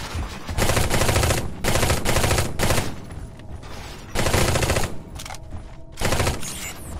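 Enemy gunfire assaulting a base in the shooter game Eximius: Seize the Frontline, loud sustained bursts of automatic fire in several long volleys with brief gaps between them.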